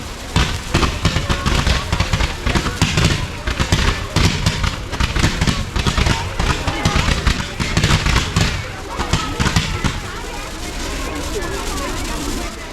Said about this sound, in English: Then in a few seconds I bring in some red mines, the Northern Lights candles from Evolution.